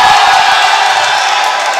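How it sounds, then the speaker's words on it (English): Basketball crowd at a Salford v Sheffield university semi-final roars in a loud, sustained cheer, bright and close, with whoops rising over the din for the whole moment. "And you can hear the cheer from that one."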